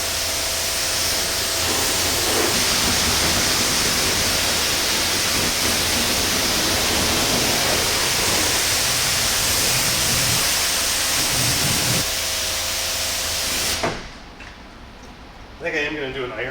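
A continuous hiss of water spray rinsing a 1951 Chevrolet 3100 resto-mod truck in a garage, loud and steady, then cutting off abruptly near the end, followed by a brief quieter spurt.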